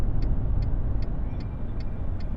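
Low, steady rumble of a big rig's engine in American Truck Simulator, idling or cruising with faint regular ticking like a turn signal over it, no talk.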